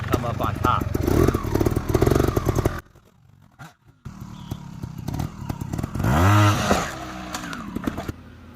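A dirt bike engine revs on throttle alone, without using the clutch. The revs are loud and rise and fall in surges, with a brief lull partway through. Speech-like sound overlaps the engine noise.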